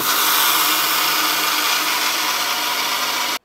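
A grinder steadily mills soaked rice into flour for adhirasam, a continuous loud whirring drone that holds even for over three seconds before cutting off abruptly.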